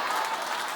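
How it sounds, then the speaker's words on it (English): A studio audience at a daytime talk show claps in a brief, dense burst of applause, loud and even for under a second. "keep clapping"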